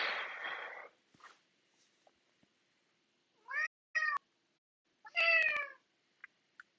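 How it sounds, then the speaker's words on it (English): A house cat meows for attention, with several separate loud, drawn-out meows in bursts, two prominent calls in the latter half, set against a quiet room. "The cat's yelling at me because I'm talking to you guys instead of giving him attention"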